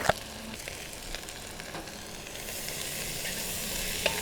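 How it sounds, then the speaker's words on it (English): Onions and peppers frying in a pan with grill seasoning make a soft, steady sizzle with a few light stirring clicks. The frying grows a little brighter partway through and stays fairly quiet, with no talking. "we just want to cook these now until the onions start to look translucent, because onions and peppers are both softening up"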